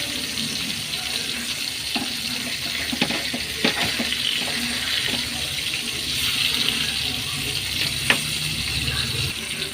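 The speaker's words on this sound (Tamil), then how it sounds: "இப்போ திருப்பி போட்டுக்கலாம் மீனை" Fish pieces sizzle steadily in a hot pan for a South Indian fish fry, with soft scraping and clicks as they are flipped one by one; the frying hiss stays constant throughout, with no voices.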